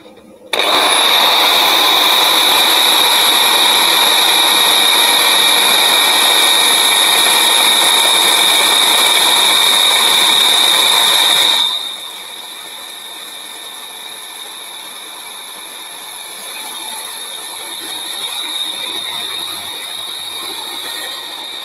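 A wood lathe turns a lump of burr ash into a bowl, a loud steady whirring drone with a high ringing whine and rough cutting noise, running continuously before dropping suddenly to a quieter hum as the cutting stops.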